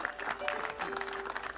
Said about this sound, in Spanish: Un fuerte aplauso, muchísimas gracias por cedernos esa preciosa letra.